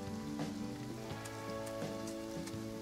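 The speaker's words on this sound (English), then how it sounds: "the rain's coming down it now, isn't it?" Steady rain during a Farm Together thunderstorm patters evenly across the clip under a droning musical background, moderately quiet, with a few faint plinks in the mix.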